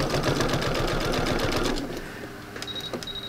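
A sewing machine stitches variegated thread onto a quilted beach landscape, a rapid, close buzzing run that stops abruptly partway through, followed by a few light mechanical clicks.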